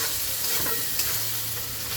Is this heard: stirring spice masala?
yes